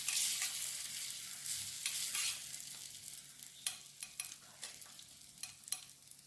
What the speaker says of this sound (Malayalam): പിന്നെ അതിലേക്ക് കുറച്ച് മുളക് പൊടി. എന്നിട്ട് അത് ചൂടാക്കുക. അതിങ്ങനെ ഇളക്കി കൊടുക്കുക